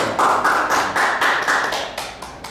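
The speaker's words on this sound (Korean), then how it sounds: "박수 보내주실 거죠?" Applause from an audience at a lecture on public speaking, a steady patter of hands clapping in rhythmic waves, close and fairly loud, with no talking over it.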